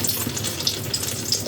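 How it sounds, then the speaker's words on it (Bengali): Pumpkin pieces fry in a pan with a constant, crackling sizzle of hot oil, close and moderately loud, with no voices. "এইভাবেই ভাজা করবো কুমড়োটা।"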